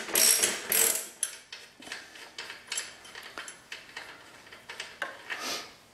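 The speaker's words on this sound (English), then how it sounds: "Now I'm going to finish taking this nut off." A ratchet loosens the rear axle nut on a Honda Shadow VT750 ACE chain-drive rear wheel, giving close, rapid bursts of sharp clicking with brief pauses between strokes.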